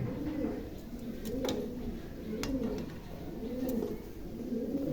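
Pigeons in a loft give low rolling coos in a repeating rhythm, close and fairly quiet, with a few sharp clicks and faint background noise over them.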